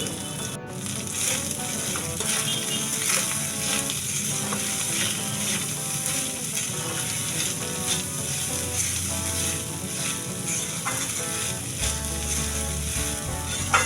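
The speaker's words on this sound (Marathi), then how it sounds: "मी संपूर्ण भात हा फोडणीमध्ये ॲड करून घेणार आहे आणि छान असा हा परतून घेणार आहे" Leftover cooked rice is stir-fried in a spiced oil tempering, with a steady, rhythmic clatter of a spatula scraping and tossing it in the pan. The sound holds at an even level throughout, with no voices.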